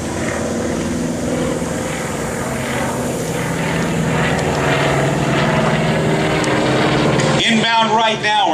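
A Beechcraft AT-11 Twin Beech, a twin-engine propeller trainer, passes overhead at an air show with a steady, loud drone that swells and then drops away as it moves off.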